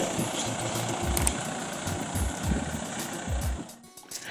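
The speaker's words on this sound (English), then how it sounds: "we booked another tractor to come in and rip the lines in the fields at 90 centimeter spacing." A tractor engine rumbles while ripping planting lines at 90 centimeter spacing in a Zambian field, a steady low idle-like chug with knocking pulses, fairly close, fading slightly near the end.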